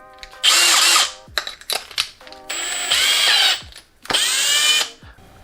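A power drill spins an ink stirring attachment in a bucket for ink mixing, whirring in several loud bursts of about a second each, separated by short stops and brief trigger blips.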